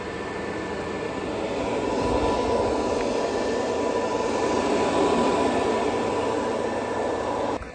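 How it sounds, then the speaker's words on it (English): Cooling fans of a Tesla Supercharger unit at Alaska's first Supercharger station, a steady, even whirring drone heard alone at moderate level throughout. "You can hear the fans running."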